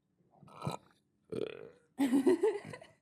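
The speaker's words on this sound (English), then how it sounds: "Oh, I got a freaking burp." A few short gulping sounds, then a loud, drawn-out croaking burp close to the mic, with a brief breathy noise before it.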